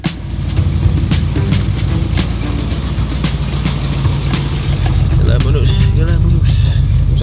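An Oldsmobile Cutlass drives along with a steady, deep engine rumble that swells slightly toward the end, while people talk inside the car.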